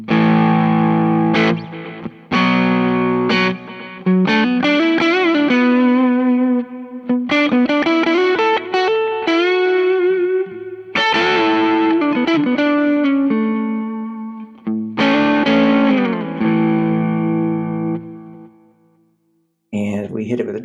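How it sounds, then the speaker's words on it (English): An electric guitar through a Fractal amp modeler set to a Dumble ODS-style, slightly gritty edge-of-breakup tone plays chords and single notes, ringing with sustain and short pauses between phrases. "let's check out the edge breakup tones on the Fractal"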